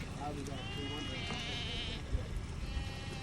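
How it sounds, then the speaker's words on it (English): Goats bleating on a farm where thin mothers are nursing their kids, with several bleats rising over steady background noise and people talking nearby. "They're looking, these goats look kind of thin, but they're feeding kids."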